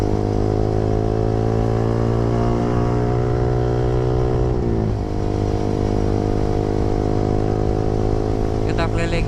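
A Yamaha R15 V3 motorcycle being ridden, its engine a loud, close, steady harmonic drone with a gear change or throttle dip midway before settling back into an even cruising tone.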